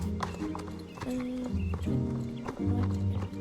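Horse trotting in the video game Star Stable Online, repeated quick hoof clip-clops with a few soft snorts and tonal game sounds, moderately loud and steady throughout.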